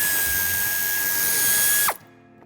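Removing a bumper screw in the wheel arch of a 2018 Ford Focus IV five-door with a power drill: a steady, loud whirring drive that runs for about two seconds, then stops abruptly with a brief falling tail.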